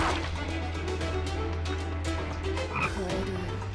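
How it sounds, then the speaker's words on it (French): A frog in the video game Jujutsu Kaisen Cursed Clash lets out a few loud, deep croaks over a dense, steady game soundscape, with a thudding impact near the end. "Une grenouille? Je hais les grenouilles."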